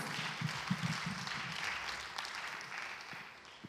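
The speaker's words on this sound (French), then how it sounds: "Clap for yourself." Church congregation clapping during a French-language sermon, a steady broadband wash of applause lasting the whole few seconds at moderate level, with no voices over it.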